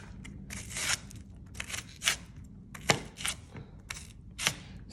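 A knife chops an onion on a board for homemade sausage rolls, with a handful of crisp, irregular cuts close by in a quiet kitchen.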